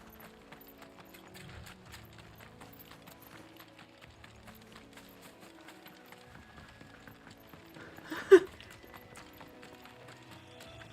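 Horse hooves clip-clopping in Final Fantasy XVI, a faint steady rhythmic trot with game sounds and one sharp louder burst near the end.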